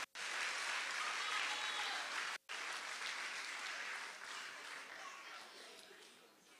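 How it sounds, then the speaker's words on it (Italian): Applause fills a room at the Premio Sardegna Live 2018 awards event, a dense steady clapping that breaks off for a moment near the start and again midway, then carries on and slowly fades. "Allora adesso ti faccio fare un applauso e puoi cantare."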